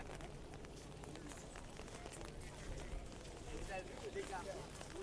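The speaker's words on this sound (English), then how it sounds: "The rain is picking up. There's also a side wind." Heavy rain driven by a strong side wind at Horse Guards in London, a dense, steady outdoor hiss of rainfall with gusty rushing that swells slightly toward the end.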